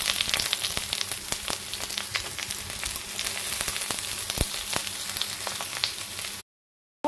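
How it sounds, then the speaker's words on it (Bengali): Onions sizzling in hot oil in a pan with bay leaf, a steady close frying hiss that runs evenly and then cuts off abruptly near the end. "আমার পেঁয়াজটা ভাজা হয়ে গেছে।"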